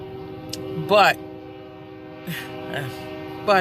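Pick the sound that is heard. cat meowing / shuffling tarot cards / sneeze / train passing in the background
train passing in the background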